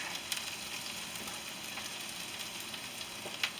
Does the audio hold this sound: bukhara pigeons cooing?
no